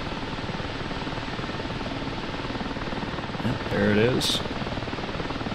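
Mi-8 helicopter in the combat flight simulator DCS, a steady rotor and turbine drone filling the cockpit throughout, with a brief horn-like tonal blast near the end and a voice speaking over it.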